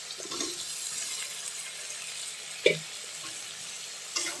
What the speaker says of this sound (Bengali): এখন মুগাগুলো দিয়ে নাড়াচাড়া করে দিই